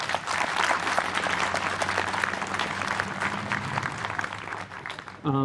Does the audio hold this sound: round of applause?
yes